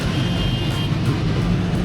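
Steady low rumble of road traffic and engine noise heard from inside a moving bus on a trip to Lonavala, continuous and fairly loud throughout, with no talk.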